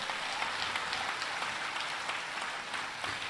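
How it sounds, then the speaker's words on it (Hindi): Audience applause at a large three-day religious gathering, a dense, continuous wave of clapping from many people that holds steady and tapers slightly toward the end. "एक बार इस आयोजन की इतनी भव्यता और दिव्यता के लिए विश्व सनातन संस्था को जोरदार ताली बजा"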